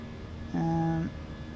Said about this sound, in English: We're flying the Airbus A320-200 Scandinavian Airlines.